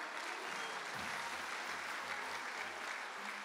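An audience at a TEOMA 2019 presentation applauds in a continuous, even wash of clapping, with a faint low hum beneath it throughout.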